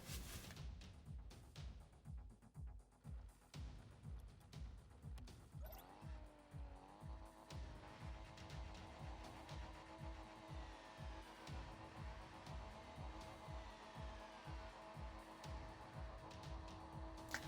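Cars in the Rocket League video game rev their engines before a 3v3 match at the Champions Field arena, with rhythmic engine pulses giving way to rising, sustained whines and boost sounds that stay loud and continuous with no talking.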